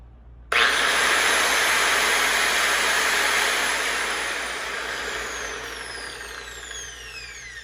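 A Makita GA9030 9-inch angle grinder, rated 2400 watts, switches on abruptly and spins up to a loud, steady whine. It keeps running close by for several seconds, easing off slightly toward the end, with no talk over it.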